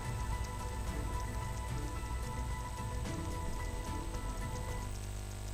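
Steady rain in border villages pours down in a dense, continuous wash of hiss with scattered drop patter and no voices.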